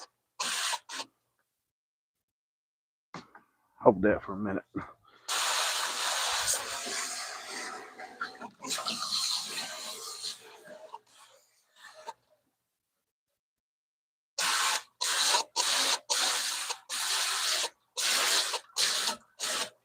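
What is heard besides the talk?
water hose spraying a fish being cleaned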